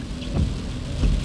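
Steady rain falls outside a vehicle pulling up at a scene, a dense broadband hiss with low rumbling swells, and no voices.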